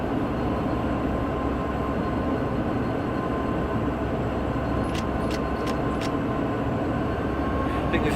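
Steady rumble of a train running in a video game, a continuous low-heavy drone with a few brief clicks late on, with no voices present.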